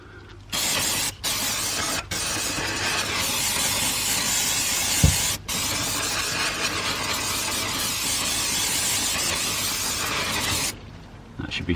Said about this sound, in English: Okay, so have some fresh brake cleaner.